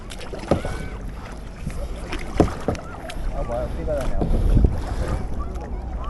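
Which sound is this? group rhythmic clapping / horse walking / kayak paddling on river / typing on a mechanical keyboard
kayak paddling on river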